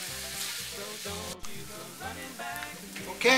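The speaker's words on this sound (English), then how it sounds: "take that cut up bacon, throw it in the skillet, and commence frying" Cut-up bacon sizzles and crackles steadily in a hot skillet, close up, with a brief spoken word near the start.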